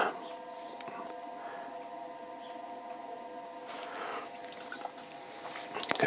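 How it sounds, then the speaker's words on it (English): Water splashed onto clay spinning on a pottery wheel while throwing test tiles: brief wet splashes and drips over a steady motor hum, close and fairly quiet, with no talking. "Just get some water on it."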